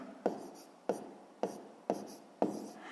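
A pen or pencil writes out a sixth-grade maths solution on paper, five quick evenly spaced scratchy strokes heard close and quiet, with no voices.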